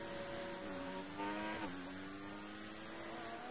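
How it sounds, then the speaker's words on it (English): A lapped Formula One car races past in the game F1 2014 at the Austrian circuit, its high-pitched engine note sweeping down as it passes, layered over the player's own steady engine drone. "That was just a lapping car"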